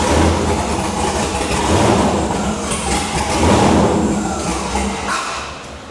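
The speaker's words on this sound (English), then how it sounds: "I'm gonna give it a little bit of throttle here." A GMC Jimmy engine being revved with the throttle during a build: a loud, rough mechanical drone that swells and eases in a few broad surges, without a pause.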